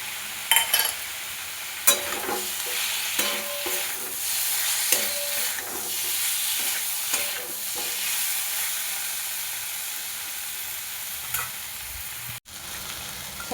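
Ground cumin and coriander sizzle and fry in a pan for a fish curry with okra and potato, a steady close hiss broken by repeated scraping stirs of a spoon, with no talk.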